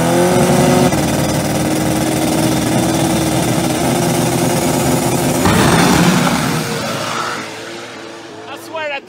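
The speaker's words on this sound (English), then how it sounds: "That thing sounds like a jet car." Pro Mod drag racing car at a drag strip, its engine roaring loud and close with a sustained jet-like howl that shifts pitch partway through, then cuts away near the end.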